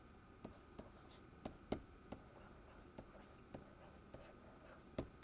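Chalk or marker tapping and scratching across a board during a physics lecture on spherical blast waves, a string of short sharp strokes at an irregular pace over a quiet room hiss.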